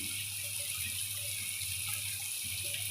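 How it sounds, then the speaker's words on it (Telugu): Water poured into a pan of cooked curry to make gravy, a steady, fairly faint gush that runs unbroken throughout. "ఇప్పుడు దీంట్లోకి నీళ్ళు మనకి గ్రేవీ కోసం"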